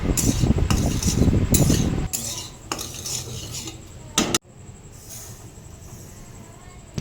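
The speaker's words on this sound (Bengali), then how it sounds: "সুজিটাকে একটু ভালো করে ভেজে নেব" Semolina dry-roasting in a kadai, a utensil scraping and clinking against the pan in dense, busy stirring strokes for a couple of seconds, then quieter intermittent scrapes with a few sharp metallic knocks.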